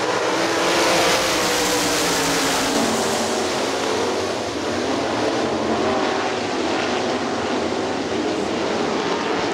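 Sprint cars racing on the dirt oval at Hartford Speedway Park, a loud continuous roar of several engines at full throttle, sustained and dense with no talk over it.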